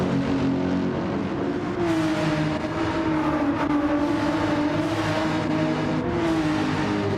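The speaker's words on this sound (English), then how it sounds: "The sound of this Mercedes hits different. It's the coolest sounding car here in this grid." A Mercedes race car engine in a racing video game, at Deep Forest Raceway, drones steadily at high revs, its pitch sliding gently up and down as it holds speed, loud and continuous throughout.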